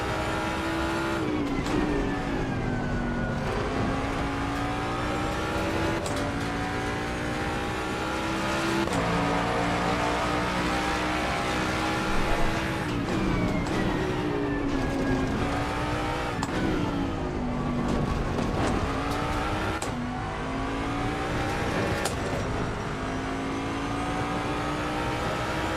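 Ford Mustang GT3 race car in Assetto Corsa Competizione at Monza or Misano, its engine droning loud and steady close up, pitch climbing through the gears with short dips at each shift, a faint tire squeal here and there.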